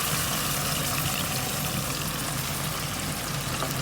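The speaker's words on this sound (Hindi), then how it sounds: "अब मैं इसको फ्राई करूँगी" Marinated chicken shashlik fries in a pan over medium-low flame, giving a constant close-up sizzle and crackle that stays loud and unbroken, with no talking.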